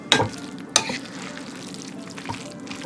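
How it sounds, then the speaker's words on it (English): Cooled spinach mixture mixed with cheese and eggs for spinach pie, close wet stirring and scraping with two sharp utensil knocks at the start and no talk. "Put in with the cheese and the eggs, and mix it up really well."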